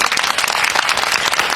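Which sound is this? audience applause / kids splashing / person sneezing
audience applause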